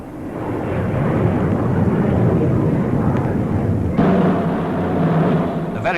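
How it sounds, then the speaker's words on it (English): A Supermarine Swift jet flies past at the 1953 RAF coronation review, a steady, loud, broadband roar that holds for several seconds with a slight shift in tone partway through, as if the aircraft passes overhead. "Then came Swifts, with which the RAF was about to be equipped."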